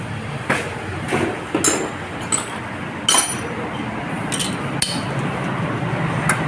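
A ratchet with an extension tightens a part under a Hyundai Tucson CRDI, giving irregular metallic clinks and knocks, some sharp and close, spread over several seconds against a steady workshop background.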